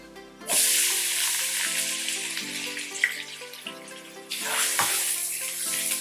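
Chopped onions drop into a hot pan of oil with cumin seeds, bursting into a loud sizzle that settles into steady frying, with a second surge of hissing near the end.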